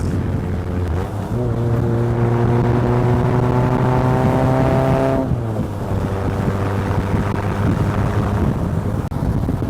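A Robinhood 3A Lotus 7 replica drives along with a steady engine drone that rises in pitch and drops when the gears change, all under constant loud wind rush, with no talk.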